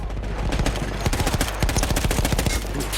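Rapid bursts of machine gun fire in Battlefield 1 on the Italian front, a captured emplacement gun firing a dense string of sharp, loud shots in uneven rhythm with no voices.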